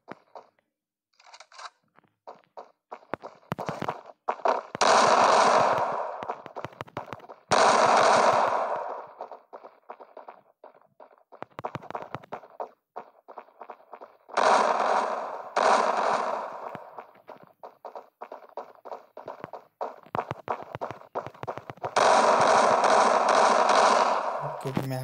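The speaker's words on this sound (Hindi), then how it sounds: "यहाँ पे मुझे कुछ गोलियों की आवाज़ सुनाई दी है" Repeated bursts of gunfire and loud shots from the Free Fire battle royale mobile game, coming in several clusters with quieter stretches of scattered pops in between and no talk.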